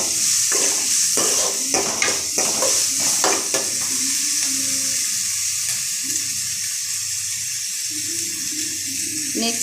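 Onions sautéing in a pan for beans kurma, with a steady sizzle and a burst of stirring scrapes early on, then settling into a continuous close frying hiss.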